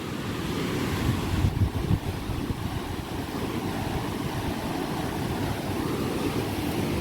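Water rushes steadily over a canal weir near Guildford, a dense continuous roar close by with slight wind buffeting, no talking.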